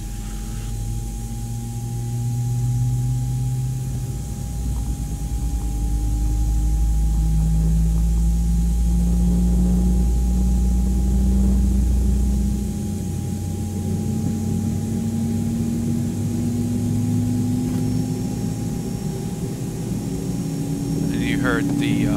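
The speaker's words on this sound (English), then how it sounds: "Starting engine" An Airbus A320 jet engine spools up from a flight simulator soundpack: a loud steady roar with rising tones climbing gradually over a constant hum, close and continuous.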